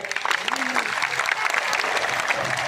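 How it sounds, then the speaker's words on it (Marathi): A crowd at a gathering gives loud applause for students on a hunger strike, a dense burst of clapping that runs throughout, with a voice speaking over it. "त्यांच्यासाठी आपण जोरदार टाळ्या वाजवल्या पाहिजे"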